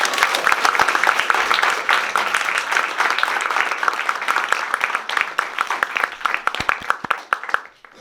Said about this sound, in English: One more round of applause for everybody here.